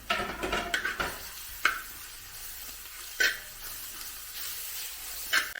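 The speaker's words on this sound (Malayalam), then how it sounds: "ഇനി നമുക്ക് അരച്ച് വെച്ചിരുന്ന ഇഞ്ചി വെളുത്തുള്ളി പേസ്റ്റ് ചേർക്കാം അതിൻ്റെ പച്ചമണം മാറി വരണം" Ginger garlic paste sizzling in a pan for masala rice, a soft continuous frying hiss broken by several sharp stirring scrapes and clinks of a spoon against the pan.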